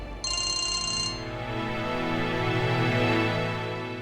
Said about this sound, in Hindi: जीविका का फोन